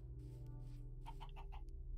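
Chickens in the video game Minecraft cluck in a short run of four or five soft, evenly spaced calls over a steady low background hum, with no talking.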